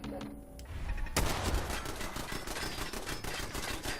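Rapid automatic turret fire in Fallout 4, a fast, steady stream of shots that bursts in loudly about a second in and hammers on without pause after a brief quieter stretch.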